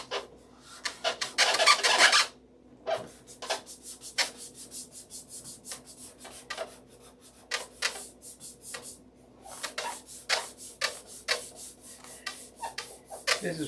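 Hand rubbing with 5000 grit abrasive, close dry scratchy strokes in irregular bursts, some long and loud, others short and light, separated by brief quiet gaps.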